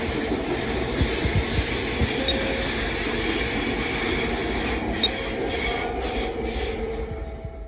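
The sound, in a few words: Queensland Rail train running at station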